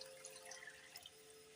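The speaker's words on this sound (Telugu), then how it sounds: "వాటర్ వేసుకుంటున్నానండి." Water runs steadily into a pot for tomato rasam, a soft continuous trickle with faint splashy detail, quiet and alone throughout.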